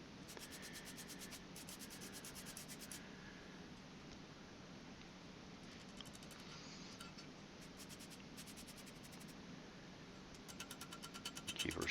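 A hot forged blacksmith's knife blade is scrubbed to clear scale from its face and bevels, a faint, continuous rasping rub with light metallic ticks, rising slightly louder at the very end.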